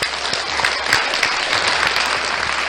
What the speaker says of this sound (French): Des applaudissements pour Deck Diffostruit qui sera à la maison avec nous, s'il vous plaît.